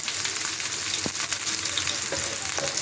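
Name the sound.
chopped onions and chillies frying in a pan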